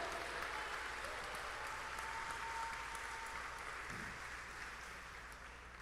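A church congregation applauding, a dense continuous patter of many hands heard from a distance at low volume, holding steady and fading slightly toward the end.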